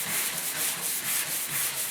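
Hand sanding of glaze filler on the doors of a 1956 Mercury project car with a sanding block, a steady rhythmic rubbing scrape repeating in close, even strokes.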